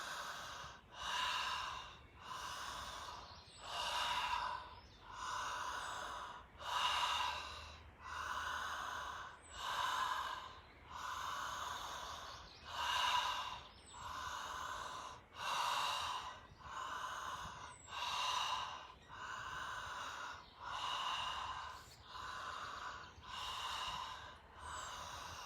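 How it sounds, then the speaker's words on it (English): Deep, slow breaths during a chakra breathing meditation, each long inhale and exhale rising and falling in a steady rhythm, close and clear, with no talking. "Breathing into your source."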